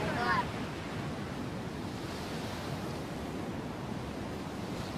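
Ocean waves and surf roar as a steady, broad wash of noise with wind, continuous and fairly soft throughout, with a brief faint voice-like sound at the very start.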